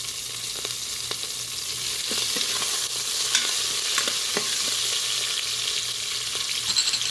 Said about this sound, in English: I add the cilantro directly to my tempering